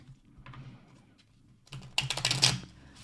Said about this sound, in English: that was a really beautiful shuffle